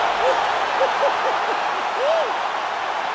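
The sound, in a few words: crowd cheering after fight-ending knockout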